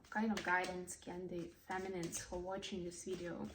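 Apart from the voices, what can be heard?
No everyday noise stands out behind the speech.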